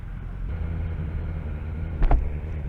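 A BMW motorcycle ridden on the road gives a steady, deep engine rumble, with a brief louder surge near the end.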